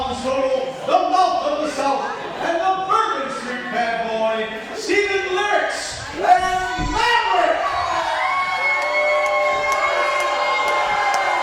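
Crowd noise from the Super Shogun Wrestling video game, a steady murmuring, jeering arena roar that stays loud throughout, layered under tonal music and game sounds with no clear words.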